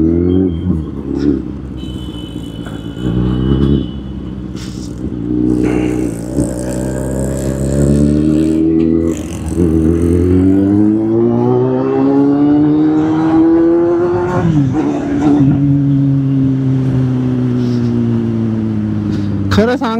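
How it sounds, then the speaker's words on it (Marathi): A motor vehicle engine runs and revs on a road, close and loud, its pitch climbing in long smooth sweeps, with a voice heard at moments over the motor. "गाडीचा आवाज मला आहे ना कमी वाटायला लागलाय"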